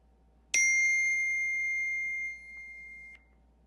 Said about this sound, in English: Every time this notification sound goes off